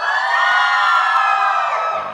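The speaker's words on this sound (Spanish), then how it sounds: "Necesitamos nivel de grito con energía." An audience at a fan meet-and-greet event shouts, whoops and cheers with loud, sustained energy for about two seconds, the crowd noise swelling and then fading slightly at the end.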